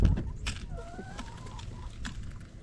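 Chickens cluck softly in a coop on a frozen Tennessee winter day: a few faint, scattered clucks and short calls over a low background rumble.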